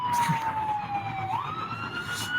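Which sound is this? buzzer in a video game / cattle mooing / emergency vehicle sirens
emergency vehicle sirens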